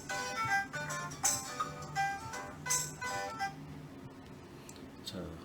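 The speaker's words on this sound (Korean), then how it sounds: "전화가 왔네요" A phone rings during a Korean classroom lecture on survey data file preparation, a repeating melodic ringtone pattern sounding several times over a steady background.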